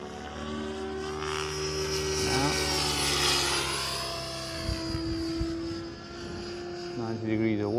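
A radio-controlled model airplane flies repeated stall turns, its propeller motor droning loudly with rising and falling pitch as it climbs, pivots and dives, with a voice talking over it throughout.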